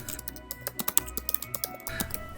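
Someone types on a computer keyboard: a quick, close run of crisp key clicks over about two seconds, with no talking.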